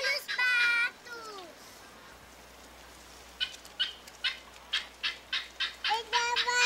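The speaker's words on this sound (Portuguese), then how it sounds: "Olha os patos!" Cartoon ducks in a Teletubbies episode give a quick run of about eight short, evenly spaced quacking calls, clear and near, following a voice speaking at the start.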